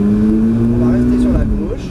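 A Ferrari F430 F1 pulls away on the Mérignac circuit, its engine droning loud and close as revs rise steadily, then a brief dip and recovery, with some voice-like interior noise mixed in.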